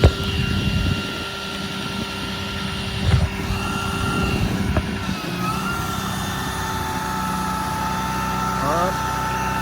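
A 2016 RAM 5500 mechanics service truck runs its engine steadily while the crane operates, with clunks and a rising hydraulic whine near the end. A voice talks over it.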